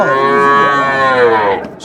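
A calf at a Friesian cattle market in Chandaikona moos once, a long loud close call lasting nearly two seconds and tapering off at the end.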